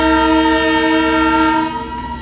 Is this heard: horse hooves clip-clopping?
no